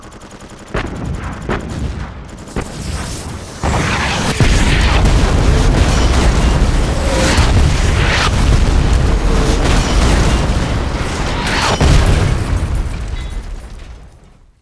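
Heavy artillery barrages in Battlefield 2 pound away continuously, with loud booming explosions and bursts of gunfire rolling over one another for the whole stretch, swelling after the first few seconds.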